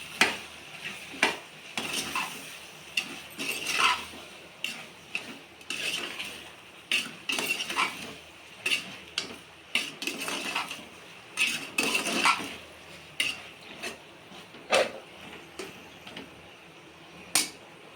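A spoon clatters and scrapes repeatedly against a metal pot as boti (goat tripe) curry is mixed, sharp clinks arriving in an uneven rhythm over a faint cooking hiss, with no voices.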